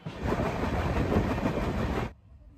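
Steady rumble and rattle of a moving train heard from inside a B1 AC coach beside the pantry car on a Kolkata to Vizag run, loud and continuous with a faint high whine, cutting off abruptly near the end.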